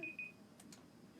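A kitchen-style timer gives a couple of short, thin high beeps at the start, then falls quiet over a faint room hush.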